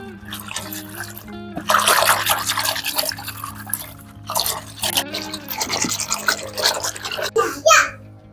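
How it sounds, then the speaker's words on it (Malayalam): Water sloshes and splashes in a basin in uneven bursts as cloves are mixed into it, while a voice talks nearby. "ഗ്രാമ്പു വെള്ളത്തിൽ നന്നായിട്ടൊന്ന് മിക്സ് എടുക്കുന്നുണ്ട് ഇവിടെ"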